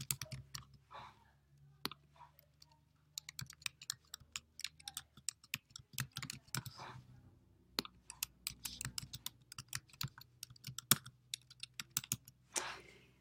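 Typing on a computer keyboard in Google Docs, with bursts of quick key clicks and pauses between words. The keys are close but quiet, with no talk.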